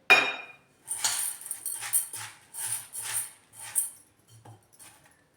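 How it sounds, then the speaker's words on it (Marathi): Sago grains are poured into a metal vessel for washing, making a series of short rattling, clinking bursts close by with quiet gaps between them. "पाव किलो साबुदाणा ह्या भांड्यामध्ये टाकला"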